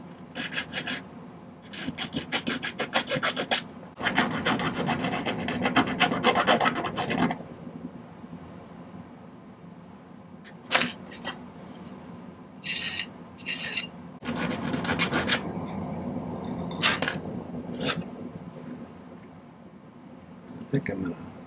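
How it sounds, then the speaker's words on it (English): A metal file rasps across a small silver bird-shaped jewelry piece in long bursts of harsh scraping, then shorter strokes, close and clear, with a person speaking between passes. "I'm just going to spend a few minutes cleaning these up with the file."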